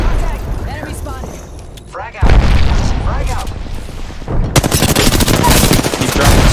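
Apex Legends combat: scattered gunshots give way to a loud booming airstrike, then dense rapid gunfire and repeated explosions fill the last seconds, all close and heavy.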